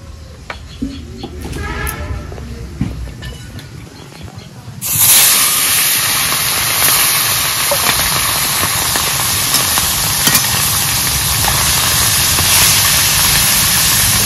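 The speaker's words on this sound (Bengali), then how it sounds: "মাছ ভেজে নেওয়ার জন্য কড়াইয়ে তেল দিয়ে দিচ্ছি।" Quiet kitchen noise, then a sudden loud hiss as fish hits hot oil in a wok, settling into a steady, intense sizzle and spatter that continues to the end.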